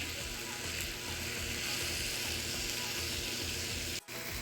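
Frozen organic Murikaki beans, a big frozen ball of them, sizzle in a deglazed pan with a steady, dense hiss and crackle that runs unbroken and fairly close, cut by a brief dropout near the end.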